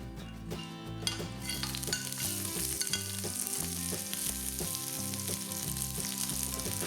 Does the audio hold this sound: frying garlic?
yes